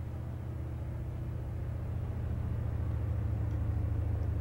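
A white D15 pickup truck in the BeamNG driving game rolls toward a wall at about 20 mph, a steady low engine hum and road rumble that grows slightly louder partway through.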